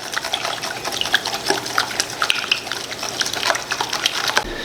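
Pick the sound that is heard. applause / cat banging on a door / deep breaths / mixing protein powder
mixing protein powder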